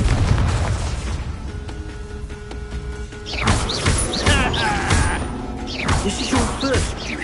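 Rumbling blasts and crashing bursts from the Confringo blasting spell in the video game Hogwarts Legacy swell into the foreground partway through, under a steady bed of battle noise and occasional voices.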